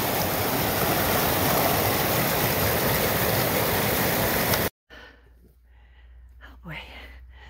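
Rushing water from a waterfall and flowing stream near an off-grid homestead, a loud steady roar for most of the clip that cuts off abruptly, leaving quieter background with faint sounds afterward.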